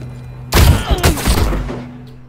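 Gunfire in the shooter game The Cycle: Frontier: a sudden, loud, close burst of rapid shots that cuts in abruptly, then rings out and decays over a second or so.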